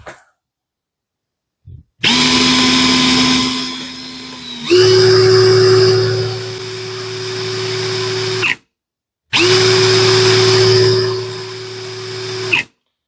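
A Parkside Performance 20-LI B2 cordless hammer drill whirs loudly in three bursts, the middle run steady for several seconds before stopping, then a final burst after a short pause.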